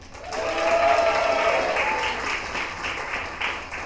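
An audience at a FameLab science communication event claps, a broad wash of applause that swells quickly, holds, then gradually thins out over several seconds.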